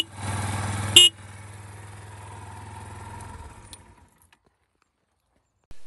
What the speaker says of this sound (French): le klaxon sur cette petite moto là, il est vraiment juste dingue